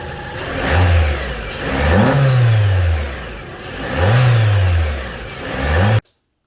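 A 2005 Peugeot 307 CC engine fitted with an induction kit revs up and drops back again and again, close and loud with a rising and falling intake roar, then cuts off abruptly.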